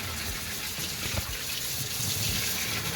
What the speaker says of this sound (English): We'll just give it a nice rinse.